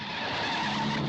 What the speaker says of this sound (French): le plus incroyable, c'est les crissements de pneus qu'on entend depuis tout à l'heure